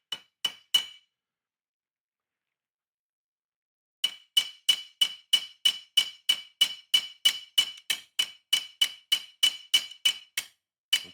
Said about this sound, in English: So the rivets are like a gold color. So just hit that with the flat end of the hammer.